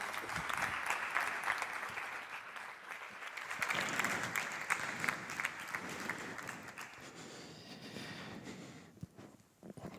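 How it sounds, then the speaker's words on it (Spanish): An audience at an artificial intelligence conference in Cartagena applauds a speaker, a dense, even clapping from many hands that carries on for several seconds before thinning out and fading. "Un fuerte aplauso para él."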